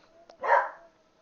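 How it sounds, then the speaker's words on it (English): A corgi gives a single short bark, fairly close and clear, standing alone against a quiet background. "Don't mind the barking. My corgi feels like he has to yell at people."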